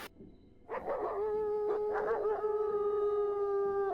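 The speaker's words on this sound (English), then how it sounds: "followed by the howling sounds of wolves" Wolves howl in long sustained tones after a brief sharp onset, several voices layering into a steady drawn-out chorus that sounds moderately distant and carries on without talk.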